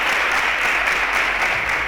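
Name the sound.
applause for the quiz contestants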